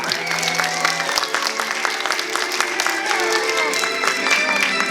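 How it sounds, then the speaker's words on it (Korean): An audience claps and cheers at the close of an evening street magic busking show, giving a dense, steady wash of applause that carries on with no break while a voice speaks over it. "계속 박수 부탁드릴게요."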